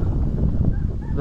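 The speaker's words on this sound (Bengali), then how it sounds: "ওখান থেকে হাঁস পাওয়া গেছে আলহামদুলিল্লাহ।" Ducks calling outdoors in a village, a short burst of nasal honking quacks close by, with wind noise underneath.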